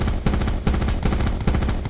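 Gunfire in an online multiplayer shooter game: loud, close, rapid automatic bursts repeating about four times in quick succession with brief gaps, and no voices over it.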